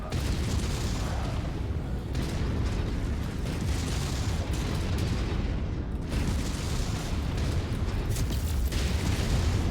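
Heavy, sustained rumbling blasts and booming combat noise from MechWarrior 5, with a mech's reactor exploding amid continuous loud battle din throughout.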